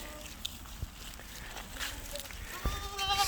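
Herd of goats on a farm greeting newly introduced yearling does, with faint scattered bleats, light footsteps and shuffling, and a person talking quietly in the background.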